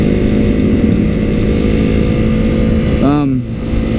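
Motorcycle engine running steadily while riding in hot Arizona weather, a loud continuous drone close to the rider, shifting in pitch and dipping near the end.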